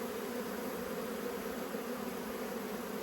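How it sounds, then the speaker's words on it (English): Dense swarm of honey bees teeming on a large hive frame, a steady close buzzing drone that holds unbroken and fairly loud throughout. "That's just teeming with bees"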